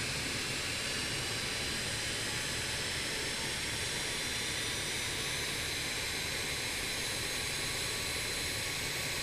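Airliner jet engines in a simulated flight in X-Plane 11 give a steady, loud, continuous whine and roar from inside the aircraft, unbroken by any voices.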